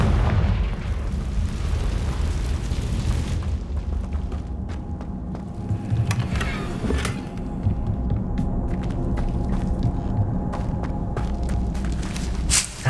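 A fiery Confringo spell explosion in Hogwarts Legacy gives a deep, booming rumble that holds steady for several seconds, then continues as a lower roar scattered with crackles and sharp pops.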